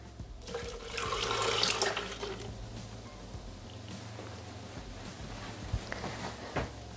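Milk poured into a Thermomix mixing bowl, a steady liquid splash and trickle that swells then settles into a continuous low watery wash, close by.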